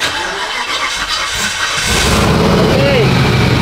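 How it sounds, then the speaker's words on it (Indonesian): A car engine cranks and then catches, started automatically by a PDM power distribution module with no key held, settling into a louder steady run partway through. "Oke, siap ya. Starter lagi ya."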